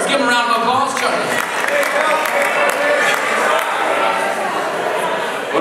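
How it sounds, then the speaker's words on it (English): Audience applause fills a theater during a political forum, with steady, dense clapping mixed with crowd noise and voices throughout. "Give him a round of applause, Charlie."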